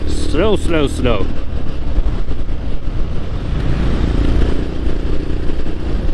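A 2021 Honda GB350S motorcycle cruising at about 80 km/h, its steady engine drone and wind rush filling the scene, with a brief burst of talk at the start over the riding noise.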